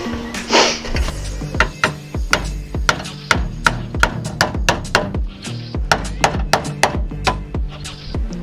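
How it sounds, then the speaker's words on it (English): Repeated sharp metallic hammer blows on Peugeot 206 car body panel, ringing out in a steady rhythm, around a dozen strikes, close and loud. "I wonder if hammering that would actually push this back out."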